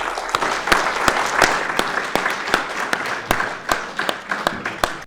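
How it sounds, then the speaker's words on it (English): Audience applause for the speakers at a paediatric care charity event held at The Great North Children's Hospital, steady clapping from a crowd sustained throughout with sharp individual claps standing out near the microphone. "could I just ask you all for a round of applause for our speakers, please?"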